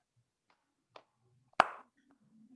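A small class clapping twice on a teacher's command, two sharp claps, the first faint and the second loud, in an otherwise quiet classroom.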